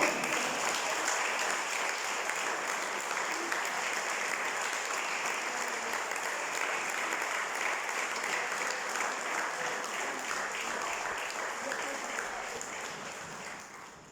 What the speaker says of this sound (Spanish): ¿Alguien puede darle un aplauso al Señor por eso?